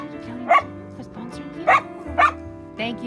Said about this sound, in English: They're small dogs, so they're amazing.